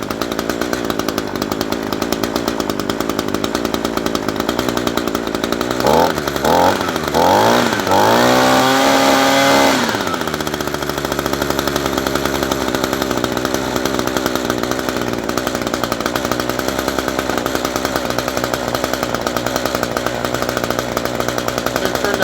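An Echo SRM-225 two-stroke string trimmer, a former non-runner under repair, runs with a loud, steady close-up buzz throughout, its pitch wavering and surging midway as the throttle is adjusted before settling back to a constant drone.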